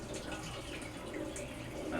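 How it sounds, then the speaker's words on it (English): Cold water trickling slowly into the inlet of a Whirlpool washer, a soft steady hiss and splash of low flow filling the tub, close and even throughout with no voices. "the cold water is just kind of a trickle"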